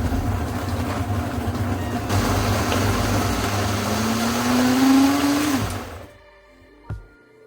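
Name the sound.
blender pureeing bulgogi marinade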